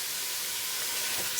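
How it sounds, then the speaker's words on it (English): Onions and chili frying in a pan, a steady close hiss of sizzling oil held at an even level, with no talk. "Start frying the onions and the chili."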